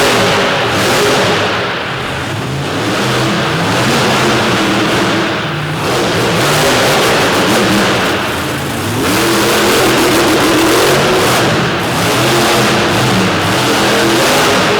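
A monster truck's engine at a monster truck show in Corbin, Kentucky, revs hard and loud in repeated surging bursts, rising and falling as it works the track.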